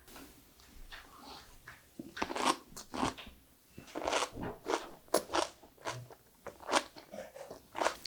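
Crisp, loud bites and crunching chews of a whole stuffed cucumber kimchi (oi sobagi), heard close up in a series of irregular crunches with brief pauses between, no talking.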